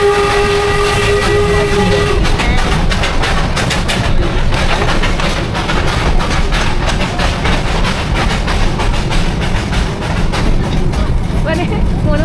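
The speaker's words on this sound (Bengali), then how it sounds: "রাস্তা দিয়ে ট্রেনে চলছি আমরা সবাই।" The Darjeeling toy train rolls through town with a horn tone at the start, then steady rattling wheel clatter and carriage noise, loud and close, while passengers talk over it.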